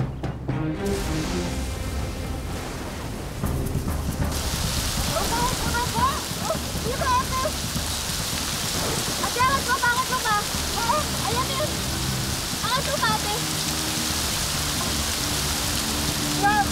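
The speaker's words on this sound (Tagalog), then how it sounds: "Mukhang babagsak na yung ulan." Steady, heavy rain pours down in a rural setting, with a dense hiss that swells after a few seconds and continues throughout. Voices talk faintly beneath it.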